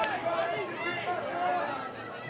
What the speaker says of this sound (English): Crowd getting involved now in these late stages.